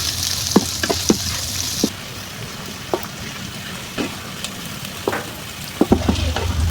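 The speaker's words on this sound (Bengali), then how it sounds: "দিব পেঁয়াজ কুচি, দিব কাঁচামরিচ, দিব একটা তেজপাতা ছিঁড়ে, দিয়ে দিলাম গরম মশলা, দিয়ে আমি এগুলো ভেজে নিব" Chopped onion, green chilli, torn bay leaf and garam masala fry in hot oil with a steady sizzle, while a spoon stirs them and taps the pan with sharp, scattered scrapes.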